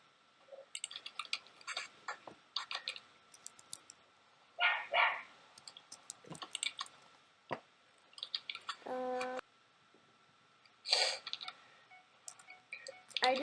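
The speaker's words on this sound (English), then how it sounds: "I hear your doggy again" A dog barks repeatedly at a moderate distance, in short bursts separated by pauses, with some faint ticking sounds in between.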